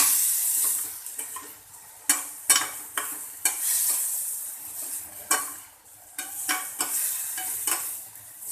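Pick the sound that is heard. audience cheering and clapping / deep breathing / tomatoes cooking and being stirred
tomatoes cooking and being stirred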